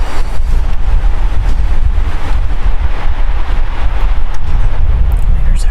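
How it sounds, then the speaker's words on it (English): Strong wind buffets the microphone during a bear hunt in Canada, with loud, gusty low rumbling and steady outdoor noise, no voices. "it's a little bit too windy"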